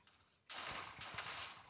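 An explosion in Minecraft bursts in suddenly and holds as a loud, sustained crackling blast with rough rumbling pulses, after a brief quiet moment.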